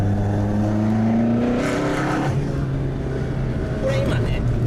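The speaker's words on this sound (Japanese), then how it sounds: "これ今ね、こう40キロから50キロぐらいの加速なんですけど、3速でバーって踏んでって" A Toyota AE86 engine pulling hard in third gear from about 40 to 50 km/h, heard from inside the car as a steady droning rev with rising pitch and then a gear change, while someone talks over it.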